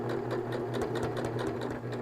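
A sewing machine runs steadily, stitching the seam of a fabric popcorn bag and back-stitching. The motor hum is close and continuous, with rapid, even needle ticks throughout.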